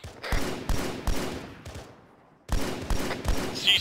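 Rapid bursts of rifle fire from a squad during patrol training outdoors, sharp repeated cracks in quick succession, a brief pause, then another volley of several close shots.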